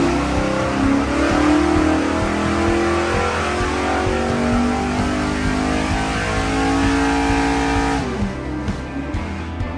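A big block 1955 Chevy engine revs hard and steadily up close, a loud sustained roar with rising pitch sweeps that eases slightly toward the end.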